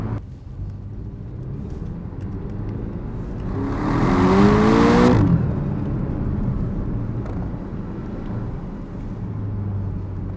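A Porsche 718 Cayman GTS with a mid-mounted engine accelerates from inside the cabin, the engine note swelling and rising in pitch through a gear for a couple of seconds before settling back to a steady road hum.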